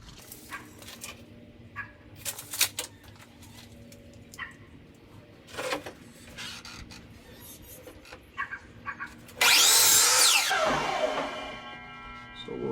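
Saw cutting a roughly three-foot wooden piece removed from a window: a loud, dense burst of cutting noise lasting about a second, standing out after a stretch of quieter shop knocks and thumps.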